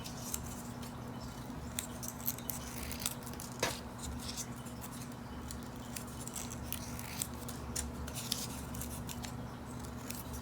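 Scissors snip through paper while cutting petal shapes for a paper dahlia flower, close and crisp, a steady series of short cuts and rustles over a faint background hum.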